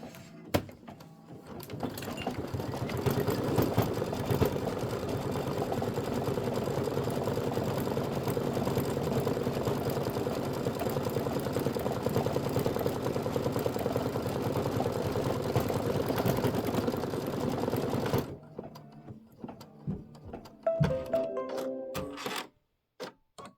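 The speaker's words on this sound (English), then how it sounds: "Just go ahead and hit start. You're going to do that decorative stitch." A sewing machine runs a decorative applique stitch on a quilt block with a steady mechanical whir for most of the stretch, then stops, leaving a few faint clicks and handling sounds.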